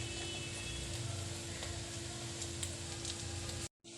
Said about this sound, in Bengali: তেলটা গরম হয়ে গেছে, দিয়ে দেব পেঁয়াজ। পেঁয়াজটা একটু ভেজে নেব।